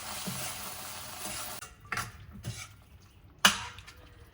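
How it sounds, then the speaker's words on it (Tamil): Thick temple-style tamarind puliyodarai mixture bubbling in a pan while being stirred, with soft sizzling and a few spoon scrapes and clinks against the metal, ending in a sharper knock. "இப்போ எல்லாம் நல்லா கொதிச்சு வந்துட்டுருக்கு."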